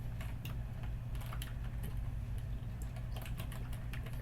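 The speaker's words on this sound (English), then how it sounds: "I want to actually show that I'm typing this." Rapid, steady keystrokes on a computer keyboard as a program is typed, clicking in uneven bursts over a constant low mechanical hum.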